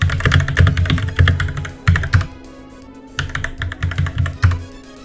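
Rapid bursts of typing on a computer keyboard, close and fairly loud, clattering in quick runs with a brief pause in the middle before resuming; a steady low hum sits underneath.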